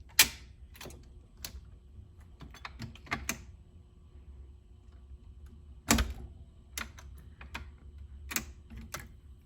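A vintage Zenith Pro automatic stereo turntable changer whose unlatched tonearm lifts and plops onto the record, making sparse, quiet mechanical clicks and thuds in a still room.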